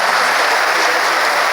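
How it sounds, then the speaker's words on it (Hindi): A seated audience at a religious padyatra gathering claps steadily together, a dense, loud wash of applause with no pauses across the whole stretch. "आप जहाँ बैठे वहीं से बैठ करके सबका स्वागत ताली बजा करके कीजिए"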